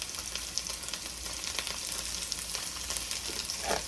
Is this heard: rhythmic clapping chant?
no